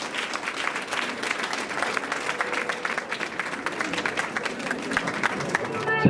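Steady applause from an audience at a New Year's wishes and school-return ceremony, dense continuous clapping throughout, with a voice heard over it.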